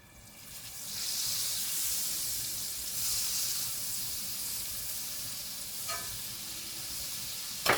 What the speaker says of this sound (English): Heat olive oil and some butter.